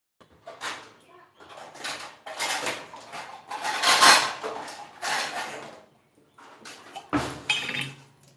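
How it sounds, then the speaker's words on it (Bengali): Food being closed up in an airtight container or tiffin box, with several clattering knocks and clinks of the lid and container coming in bursts, close and fairly loud, with a short thud near the end. "তো এবার এটাকে আমি একটা এয়ারটাইট কন্টেনারে বা টিফিন বক্সে বন্ধ করে রাখবো।"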